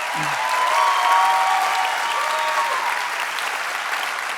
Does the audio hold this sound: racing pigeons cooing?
no